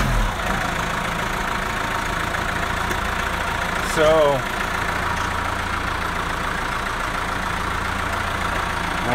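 A vehicle engine idles steadily in first gear, a constant close rumble, while someone talks over it briefly.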